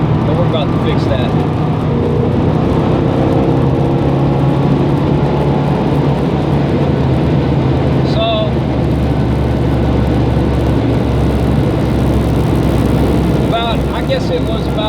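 A 1986 Monte Carlo SS with a rebuilt 60-over 400 small-block engine gives a steady, deep, close rumble from inside the car, with someone talking over it throughout.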